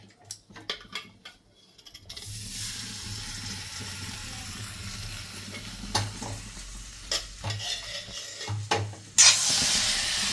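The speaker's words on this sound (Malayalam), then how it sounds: "നമുക്കിതിനകത്തോട്ട് ഇറച്ചി ഇത് കരൾ ഇട്ട് കൊടുക്കാം." Chicken liver dropped into hot spice masala in a pan, giving a loud close sizzle and frying hiss with stirring scrapes and clinks after a quiet start, with no talk over it.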